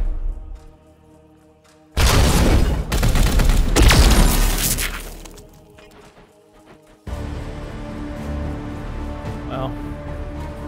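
Gunfire from the video game Warhammer 40,000 Chaos Gate Daemonhunters, a dense burst of loud shots with booming impacts lasting a few seconds, then fading into a steady game background with some talk.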